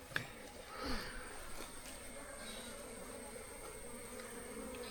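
Honeybees buzz during the capture of a bee colony, a faint, steady, close-by drone with a few louder passes from individual bees near the start.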